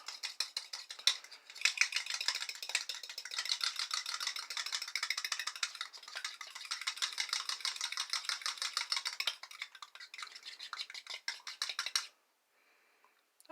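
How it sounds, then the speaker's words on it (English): A whole egg being whisked in a small container for egg wash while making homemade bread, heard as a fast, steady stream of close, bright ticking strokes for about twelve seconds before it stops abruptly. "So I'll just put it into a little container here and give it a nice little whisk."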